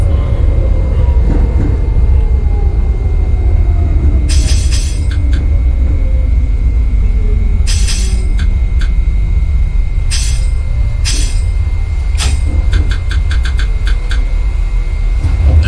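A NYC Subway R68A train runs in the OpenBVE simulator with a loud, steady rumble and a slowly falling motor whine, broken by bursts of clicking wheel and track noise.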